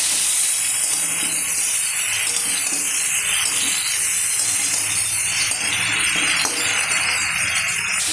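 Mixed vegetables for Bengali shukto frying in a pan, a loud, continuous sizzle and hiss that carries on steadily with no break throughout.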